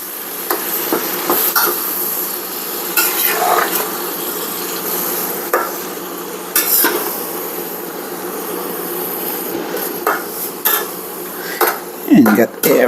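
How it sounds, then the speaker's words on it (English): A utensil stirs and scrapes browned bits from the bottom of a hot pan while cooking pizza cobbler. The metallic scraping and clattering is loud, continuous and close, with brief knocks against the pan. "And get everything nice mixed up and scrape off a little bit of those delicious brown bits."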